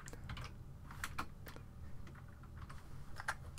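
Typing a name on a computer keyboard while playing Viva Pinata: quiet, irregular key clicks with a few sharper taps, close by and with no voice over them.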